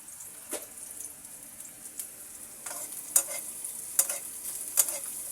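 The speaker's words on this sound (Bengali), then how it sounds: "পেঁয়াজগুলোকে আমি ব্রাউন কালার করে ভেজে নেব।" Chopped onions frying in a pan, a quiet close sizzle under repeated sharp scraping strokes of stirring that come every second or so and get a little louder toward the end.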